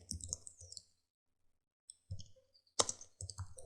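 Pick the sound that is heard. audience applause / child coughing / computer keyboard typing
computer keyboard typing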